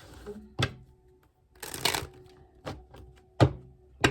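Tarot cards are shuffled and riffled in short, uneven bursts, with a few soft taps and knocks between them, close by.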